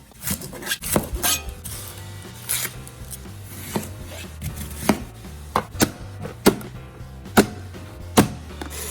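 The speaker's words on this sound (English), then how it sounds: "I'm gonna go ahead and dice my onion" A knife dices an onion steadily on a cutting board, sharp thuds in a quick uneven rhythm, close up, with sausage frying and sizzling underneath.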